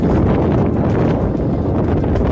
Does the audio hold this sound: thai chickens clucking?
no